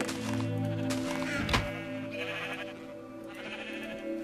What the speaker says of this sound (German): Schaf ist zum Glück diesmal so nett zu mir und haut nicht ab.